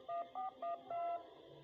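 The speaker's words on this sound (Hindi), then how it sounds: "फिर पास के टेलीफोन बूथ से अर्जुन का नंबर डायल किया" A phone number is dialed at a telephone booth: four clear DTMF tones in a quick row, the last held longest, fairly quiet and alone against a soft background.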